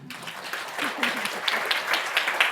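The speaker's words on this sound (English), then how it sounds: "A round of applause to you" Applause from a small group at a conference opening, a steady patter of claps building slightly and continuing throughout.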